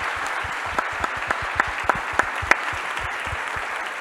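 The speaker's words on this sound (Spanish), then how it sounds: "les pido un fuerte aplauso a todo el panel" Audience applause for a panel at a conference session, a steady wash of many hands clapping with a few sharper individual claps standing out, moderately loud and continuous with no talk over it.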